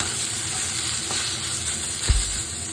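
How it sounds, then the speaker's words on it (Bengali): Chopped eggplant pieces with salt and turmeric frying in a pan, a steady close sizzle with a soft stir or scrape near the end. "এটাকে ভালো করে এখন আমি ভেজে নেব"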